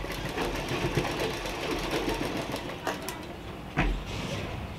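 Sewing machine running stitches through layered Patiala salwar fabric, a fast steady mechanical whirr with light clicking, fairly close and moderately quiet, with a faint thump near the end.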